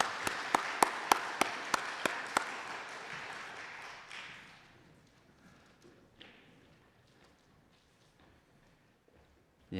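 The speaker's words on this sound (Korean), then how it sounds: "여러분 박수로 격려해 주시면 고맙겠습니다" A church gathering gives brief applause, a handful of distinct claps over a soft patter that dies away after about four seconds and leaves quiet room noise.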